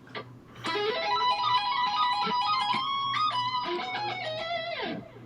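An electric guitar played with a mute plays a quick melodic lick with a slightly damped tone, notes sliding and ringing over a faint background hum.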